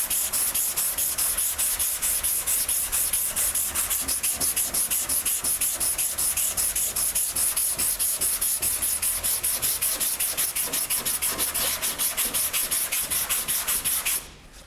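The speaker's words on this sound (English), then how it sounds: "we're gonna start sanding" Sandpaper of 220 grit rubbing over car body filler on a sanding block during a restoration, steady rapid back-and-forth scraping strokes lasting nearly fifteen seconds, close and loud with no talk.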